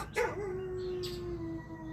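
A single dog howl in response to fire truck sirens, a long sustained wavering note that rises then slowly fades, with faint background noise.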